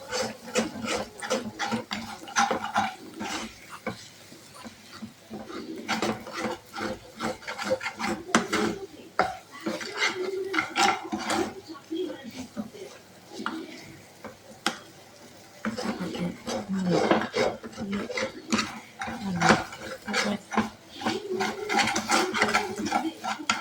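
Lentils are dry-fried in a pot and stirred constantly, with a spoon rasping and scraping against the bottom in rapid, rhythmic strokes, close and continuous throughout.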